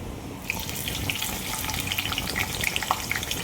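Onions tipped into hot oil with cumin seeds for a fish curry, a sudden burst into bright crackling sizzle with popping spatters, steady and close, no talking.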